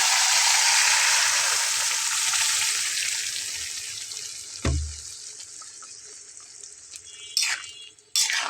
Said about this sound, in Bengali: এখন এর ভেতরে আমি ডালটা আস্তে করে দিয়ে নিচ্ছি